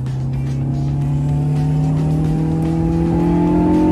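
A Honda S2000 with J's Racing parts revs hard as VTEC engages, its engine note climbing steadily and loud throughout a short sustained pull, close and continuous with no talking.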